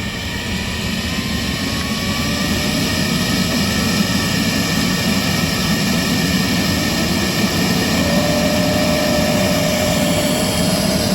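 The brush motor of a Neato XV-12 robotic vacuum spins at a steady, loud, close whir, a continuous drone with a faint high whine running throughout and no talking.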